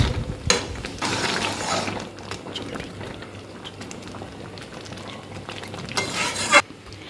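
Ghugni with garam masala being stirred in a pan: a low bubbling simmer with soft scraping and clicking of a spoon against the pan, close up, with two brief louder bursts of stirring near the start and end.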